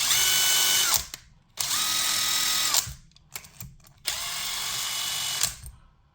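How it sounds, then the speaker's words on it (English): A cordless impact driver spinning a Klein Tools pass-through socket runs in three loud, steady bursts of about a second each, with brief pauses and clicks between them, close and alone. "I'll put this on my impact real quick."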